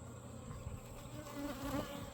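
Honey bees hum in a continuous, moderately faint drone at an open hive with brood in the super, the buzzing steady with slight swells.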